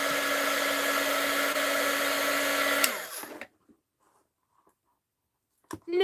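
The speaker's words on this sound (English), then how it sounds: "Let's heat gun this label off." A heat gun loosening a label's glue: a steady, loud blowing whir with a tonal hum runs for about three seconds, then cuts off and winds down into near silence, followed by a brief rustle at the end.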